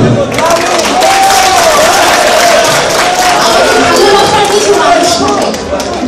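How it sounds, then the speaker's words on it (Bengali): Audience at a UK Baul mela applauds a Baul singer, a loud, sustained wash of clapping from a crowd with a voice carrying over it. "আমরা জুড়ে একটি করতালি দিই।"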